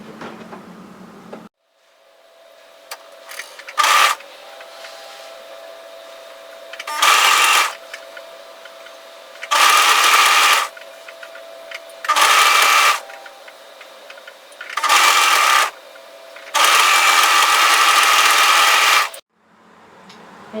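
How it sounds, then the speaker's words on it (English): A sewing machine sews a sweater's sleeve to its shoulder seam in several loud, close bursts of rapid stitching. Each burst lasts one to two seconds and is separated by quiet pauses, with a longer run near the end. "we're going to sew that seam together from side to side"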